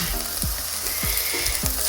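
Curry simmering in a pan with oil and tamarind, a steady close bubbling sizzle with soft intermittent stirring scrapes, no voices.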